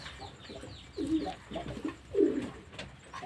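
Pigeons coo softly while pecking at feed, a few low throaty coos rising close by over light background rustling.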